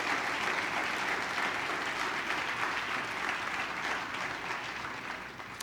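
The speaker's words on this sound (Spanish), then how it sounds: "vamos a darle un aplauso a las personas que he mencionado" A church congregation applauds, a dense, sustained round of clapping that holds steady and then eases slightly toward the end.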